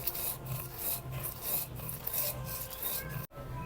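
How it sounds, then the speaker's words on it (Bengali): Spices are ground by hand for a Bengali chutney, producing a steady, quiet rasping scrape that repeats in even strokes with a brief break near the end. "চাটনিটা জাল হইতে হইতে মশলাটা গুঁড়া করে নিই।"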